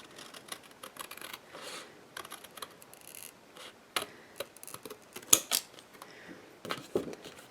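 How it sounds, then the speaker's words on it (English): Scissors snip paper pieces for a handmade Spellbinders fractured card with a paper rose, a run of soft, close cuts in an irregular rhythm with a few sharper snips near the end. "now I'm just going to cut these out right up to the card"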